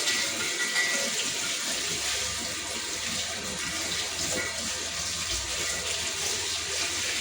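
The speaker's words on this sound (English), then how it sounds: "I just load it directly on the strainer, then I just wash it" Rice being washed in a strainer under running water: a continuous, even rush of splashing water that holds steady throughout, with no voices.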